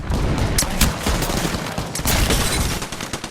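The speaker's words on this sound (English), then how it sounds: "the shielded fortress can throw a smoke grenade to call in a mortar strike, blasting the area surrounding the smoke grenade" Mortar strike called in by Gibraltar's Defensive Bombardment ultimate in the Apex Legends video game: a dense, loud barrage of overlapping explosive blasts and booms landing in quick succession throughout, with no talk.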